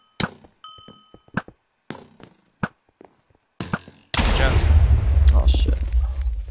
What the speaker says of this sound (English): This is still firing the cannon.